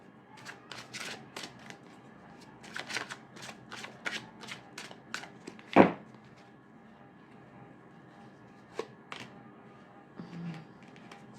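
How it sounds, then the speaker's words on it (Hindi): A deck of cards is shuffled by hand nearby, a run of quick papery riffles and flicks in short bursts, with one sharp snap midway and a few scattered taps afterward. "Let me shuffle again."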